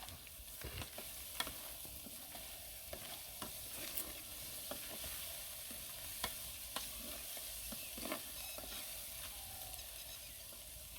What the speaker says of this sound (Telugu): బాయిల్ అవుతుంది, కొద్దిగా టైం పడుతుంది